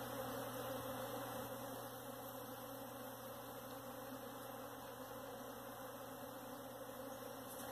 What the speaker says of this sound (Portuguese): Quem conhece o barulho de enxame de abelha,